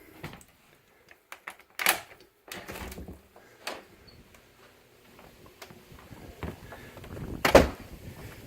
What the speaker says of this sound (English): We can go out the back door.